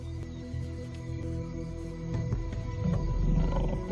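A lion lets out a deep, loud, rumbling roar at close range in the African wild, building in intensity over a few seconds.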